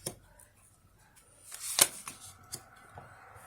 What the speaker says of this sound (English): I'll shuffle 2 more times and just choose 2